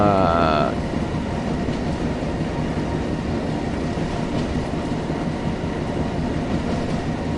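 Locomotive running on the West Somerset Railway in Train Sim World, a loud continuous rumble and clatter of wheels on track with a brief whistle-like tone at the very start, steady throughout.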